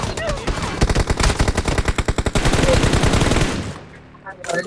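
Rapid automatic gunfire in the battle-royale game Free Fire, a dense rhythmic burst of shots lasting several seconds before trailing off, loud and close.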